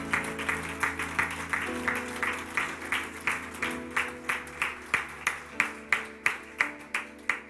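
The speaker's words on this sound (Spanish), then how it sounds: "Dale un aplauso al Rey" A church congregation claps in steady rhythm during worship, the regular beats mixing with sustained music and singing over about seven seconds at moderate level.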